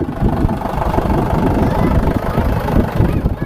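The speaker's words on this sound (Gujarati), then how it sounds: "અહીંયા ટ્રેક્ટર આવી ગયું" A tractor engine idles nearby with a loud, low, throbbing rumble, steady and uneven in its knocking pulse.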